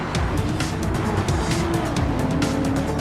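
Race cars, including a Toyota Supra, roaring around a circuit in a Challenge Series race, with continuous engine drone, passing surges and faint tire squeal, loud and steady throughout.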